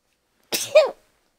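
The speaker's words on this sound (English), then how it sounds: "Does anybody else sneeze like crazy in the morning?" A single sharp sneeze, a quick intake then an explosive burst, close and loud, followed by silence.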